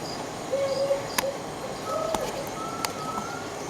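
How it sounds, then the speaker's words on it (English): Sparse, high chirps of black crickets sound over a low background hiss, with a few sharp clicks scattered through. "These are the black crickets."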